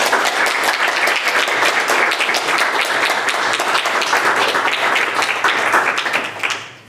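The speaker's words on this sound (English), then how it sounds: "Can we get a round of applause, please?" Dense, sustained applause from an audience thanking speakers at a talk on activism in Muslim communities, loud and steady for several seconds before tapering off quickly at the end.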